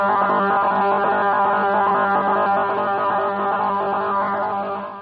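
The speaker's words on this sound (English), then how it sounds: "These are Russian jammers." Loud, continuous droning buzz of Russian shortwave radio jamming, a dense layered tone with a pulsing, warbling texture that fades slightly at the end.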